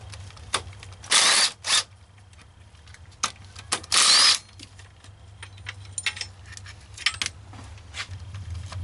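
A ratchet backs out 12 millimeter bolts on a 2003 Honda Civic engine during a head gasket replacement, giving short loud buzzing bursts of rapid clicks separated by quieter metallic taps and clinks, close up.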